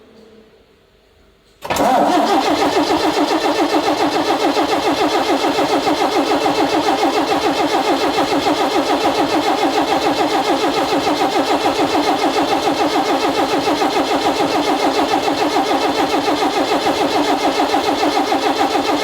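An AEC Routemaster London bus diesel engine cranks and catches after a brief quiet moment, then runs loud and steady at full throttle, a dense continuous roar with a fast pulsing rhythm held throughout.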